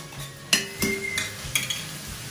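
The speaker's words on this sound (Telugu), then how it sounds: "గ్రౌండ్ నట్ ఆయిల్ వేసేసరికి ఆ బబుల్స్ లాగా వస్తుందండి కొంచెం బాగా వేగాలి అల్లము" Ginger and garlic fry in groundnut oil under a faint steady sizzle, punctuated by several sharp clinks and scrapes of a utensil against the pan, close and clear, with no one speaking.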